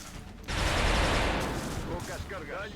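A gun fires in XCOM: Long War as a loud sustained burst that decays into rattling mechanical noise, with a voice talking briefly near the end.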